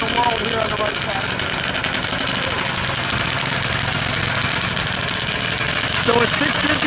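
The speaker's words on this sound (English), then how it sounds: "So a 650cc Banshee just broke the PSDA record." Yamaha Banshee 650cc two-stroke ATV racing at an Arizona drag strip, its engine a loud continuous buzzing drone across the whole stretch, with crowd and announcer noise mixed underneath.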